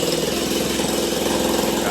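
A drilling machine runs steadily and loudly throughout while a wooden house is being jacked up and posts are set on concrete pipes, its continuous engine-like drone filling the whole stretch.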